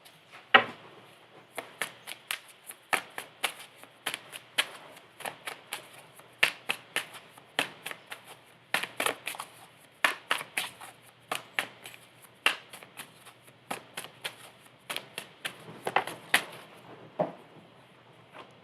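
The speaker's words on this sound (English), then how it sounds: "You watched me shuffle" Tarot cards being shuffled, with a steady run of quick papery riffles and soft slaps repeating close by for the whole stretch, with no one talking.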